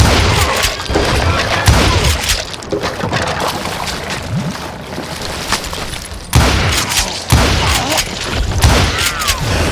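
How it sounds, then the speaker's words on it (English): A fusillade of gunfire in the Western video game Call of Juarez: Gunslinger, with loud, rapid overlapping shots, heavy booms and crashing impacts in dense bursts. "a fusillade of bullets come raining down from on high"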